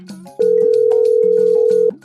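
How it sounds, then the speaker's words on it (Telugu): A telephone ring effect plays as a steady electronic tone lasting about a second and a half, loud and close, over a faint background of music. "ఇప్పుడు నీకు ఫోన్ వస్తుంది ఫోన్ ఎత్తి మాట్లాడా"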